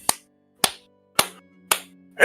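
Five sharp, evenly spaced claps ring out one after another, close and crisp, with a faint hum lingering between them.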